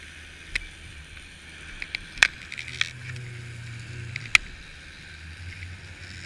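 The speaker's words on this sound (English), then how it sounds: "I think that's the sound of the reels 100 feet away." Faint whining and clicking from fishing reels far above, carried down the line to a camera on the ocean floor off Miami, with sharp ticks over a steady underwater hiss and a low rumble.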